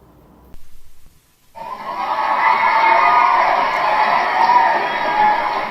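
Applause and crowd cheering in a radio studio, swelling after a short gap into a loud, steady roar of clapping and shouts that holds to the end.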